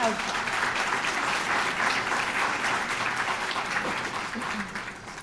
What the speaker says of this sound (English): a big, big clap for Jim and CORE.